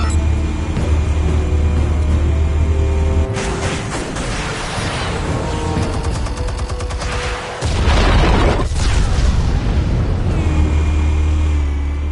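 Armed explosives detonating in a game: a loud, dense eruption of booms and crackling blasts that swells and shifts over several seconds, with heavy low rumble returning near the end.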